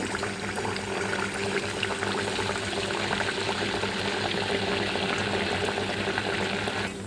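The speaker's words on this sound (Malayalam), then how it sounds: "ഇട്ട് കൊടുക്കുമ്പോൾ ഇത് നല്ല ബബിൾസ് പോലെ പൊന്തി വരും." Rice-flour dough for neypathal fries in hot oil, giving a steady, dense sizzling and bubbling hiss that continues unbroken throughout.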